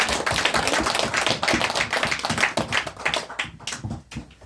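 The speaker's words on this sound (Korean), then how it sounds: "우리 주님 앞에 영광의 박수 올려드리도록 하겠습니다" A church congregation at a Tuesday worship and prayer meeting claps in sustained applause, a dense, loud wash of hand claps that holds steady throughout and thins slightly toward the end.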